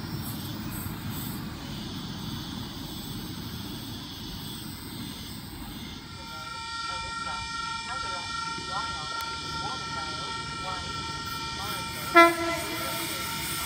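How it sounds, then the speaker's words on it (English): A long freight train rumbles steadily past Wondabyne Station in New South Wales, Australia, its wheels grinding on the rails, then a loud horn blast rings out near the end. Faint voices briefly overlap. "One long ass freight train,"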